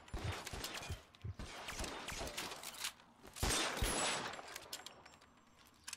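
In L.A. Noire Remastered, an M1 Garand rifle and other guns fire in a shootout, with repeated sharp shots spread across the scene. Mechanical clatter and steady game noise run beneath them.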